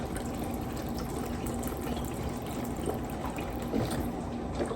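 Chicken broth is poured into crumbled cornbread dressing in a crockpot, a soft, continuous liquid trickle and splash lasting several seconds, quiet and close, with no talking over it.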